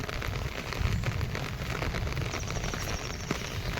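Heavy monsoon rain falls steadily on a busy market street, a dense, continuous wash of drops close by with faint scattered knocks mixed in.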